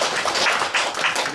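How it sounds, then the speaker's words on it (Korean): Church congregation clapping together in a sanctuary, a brief steady patter of many hands with no talk over it. "그 다음에 박수 한번 칠까요?"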